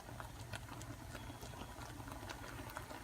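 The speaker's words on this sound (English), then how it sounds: "here's what it looks like when it's starting to boil" A pot of chocolate peanut butter fudge mixture just starting to boil gives a faint, steady bubbling and soft popping close by, with no talking.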